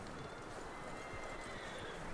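Horse in the Red Dead Redemption 2 video game whinnying, with hoofbeats clopping along steadily, heard faintly under a noisy wash.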